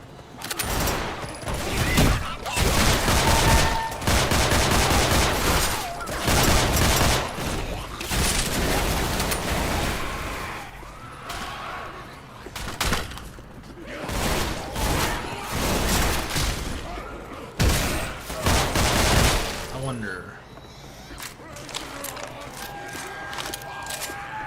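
Pistol and other gunfire in a modded Left 4 Dead 2 match: loud, near-continuous volleys and booms with crashes and clatter, easing off briefly before resuming.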